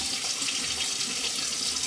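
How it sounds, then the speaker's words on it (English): Tap water running into a sink during a straight razor shave: a steady, close hiss of flowing water with no talking. "Let's get a little water on this"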